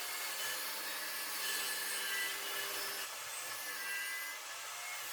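Reclaimed studding timber being milled, likely on a jointer or planer, with a steady loud machine roar and cutting noise that shifts partway through, no talk.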